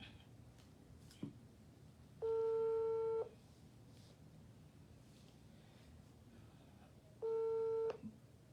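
Outgoing telephone call to Abidjan ringing out: two long electronic ring tones separated by a few seconds of quiet line hiss, with no voices.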